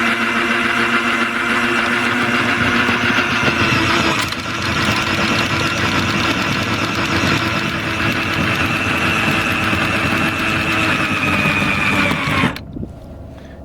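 A boat's engine runs loud and steady at close range, a strained droning hum with a constant tone while the boat is dragged over its own anchor, then drops away abruptly near the end.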